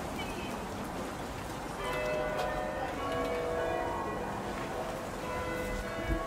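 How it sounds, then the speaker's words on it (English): Church bells ringing out at a distance in Stamford, England, their tones overlapping and ringing on, with a steady bed of outdoor street ambience and no clear talk. "The church bells have just started ringing."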